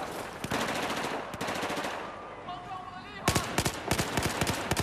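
Rapid automatic gunfire in a Battlefield 4 firefight against a sniper, with loud close bursts of repeated shots breaking off and resuming, and a player talking over the shooting.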